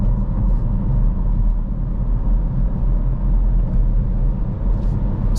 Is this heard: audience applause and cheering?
no